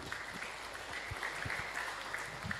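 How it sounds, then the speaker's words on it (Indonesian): Faint, distant applause from an audience at a Bank Indonesia public discussion on regional inflation in Majalengka, a soft patter of claps with a few louder hand slaps. "mohon tepuk tangan untuk Pak Hestu"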